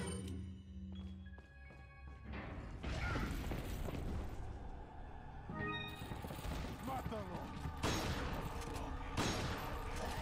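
Shotgun blasts from the Resident Evil 4 video game boom among game effects and clattering, with a person talking over the gameplay.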